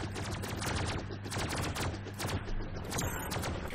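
Rapid continuous machine-gun fire from a helicopter in the Robocraft video game, dense rattling bursts of shots that stay loud and close throughout.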